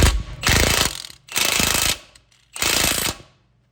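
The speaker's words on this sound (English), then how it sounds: "I'm gonna grab the impact and we'll impact that guy on there." Impact wrench driving an 18 mm outer tie rod castle nut onto a Ford Edge steering knuckle: three loud, close rattling hammer bursts of about a second each, separated by short pauses, with no talk.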